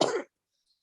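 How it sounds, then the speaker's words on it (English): A woman recovering from COVID gives a single short, close cough, followed by silence. "I am getting over COVID. So I have a cough here and there"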